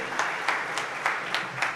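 An audience applauds at a gathering, the clapping steady and moderately distant, with a few louder bursts recurring at regular intervals.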